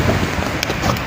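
Strong dust-storm wind roars in a constant broadband rush, buffeting the microphone loudly and close throughout, with no talk heard.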